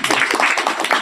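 A few people clap their hands in a quick, rhythmic burst of about five or six sharp, close claps.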